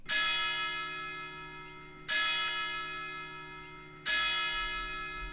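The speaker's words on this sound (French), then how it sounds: "les cloches de l'église se sont mises à sonner en faisant trembler le nid" Church bell tolling three times at steady two-second intervals, each strike ringing out clearly and decaying slowly, with no other sounds.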